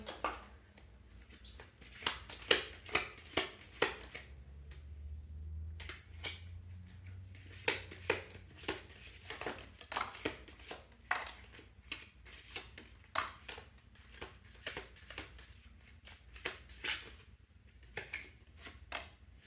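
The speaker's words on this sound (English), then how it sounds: "One more shuffle." Tarot cards are shuffled by hand in a quiet room, a run of sharp riffling flutters and soft slaps of the deck that come in bursts and pauses over about twenty seconds, with no talking.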